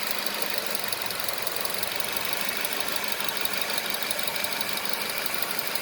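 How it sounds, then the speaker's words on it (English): A Ford Transit engine with an ignition coil wiring fault (code P0352) runs rough and uneven, a steady close-up mechanical roar with a faint knocking stutter throughout and no voices. "So you notice if I push this here, the engine starts kind of jumping around a little bit."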